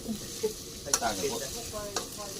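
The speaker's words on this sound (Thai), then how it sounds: "ครับกำลังผัดพริกแกงอยู่อันนี้ครับรออีกสักครู่นะ" Thai red curry paste sizzles while being stir-fried in a hot pan for spicy frog, a utensil scraping and stirring a few times, close and fairly soft.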